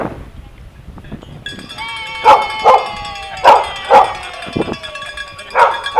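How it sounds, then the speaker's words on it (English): A dog barks outdoors on a father-daughter bicycle journey, several loud, close barks spaced a second or so apart, with cowbells clanking in the background. "Yaki dog. Come here, Yaki"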